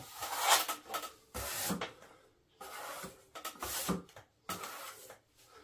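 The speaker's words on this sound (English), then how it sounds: "Again, only a little bit on the trowel, into the corner and bring it down." A plastering trowel scrapes plaster into a ceiling drywall corner in several separate drawn-out strokes, close and rough-textured, with short pauses between passes.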